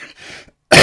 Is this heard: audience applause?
no